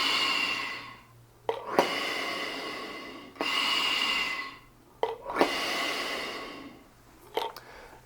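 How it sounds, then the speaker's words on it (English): Slow, deep breaths are drawn through a breathing training device used by a bass trombonist, with four long airy breaths separated by quiet pauses and short sharp catches of air. "I'm just going to use this breathing gizmo just to show you just sort of how that is."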